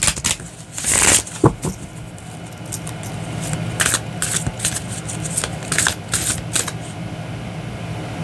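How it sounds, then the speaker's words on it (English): A deck of tarot cards being shuffled in several quick riffling bursts, close up, with soft handling noises between the shuffles. "One more shuffle and then cut."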